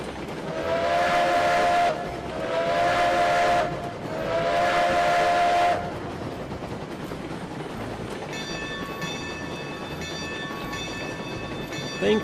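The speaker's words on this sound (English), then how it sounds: "Thankfully, we have our trusty iron workhorse, the Astragon, our level 7 train, which has no issue pulling 12 cars." Steam locomotive in the video game Railroads Online, a level 7 engine pulling 12 cars up a mountain: three long, loud whistle blasts, then a steady rumbling run with a fainter high tone, no voices.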